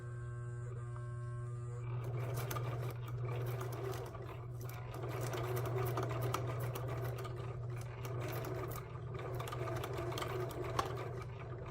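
A sewing machine runs a straight stitch along trim on a junk journal, a steady close mechanical whir and buzz with a low hum underneath that continues without a break.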